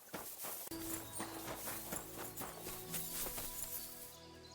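Hooves of a horse clip-clopping in a steady walking rhythm in Kingdom Come: Deliverance II, close and clear over a soft background with no speech.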